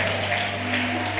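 Church congregation clapping during a service, a moderate, steady patter of many hands over a low sustained musical hum.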